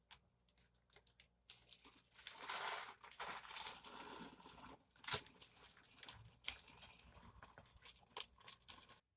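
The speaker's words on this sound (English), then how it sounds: "I pour the sprouted lentils in the bag." Sprouted lentils rattle and patter in quick bursts as they spill into a plastic freezer bag, with soft crinkling between pours.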